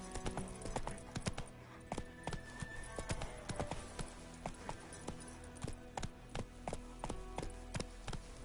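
Roach the horse's hooves clip-clopping in The Witcher 3, a steady walking rhythm of hollow thuds and clacks, fairly close, with faint ambient sounds and no speech.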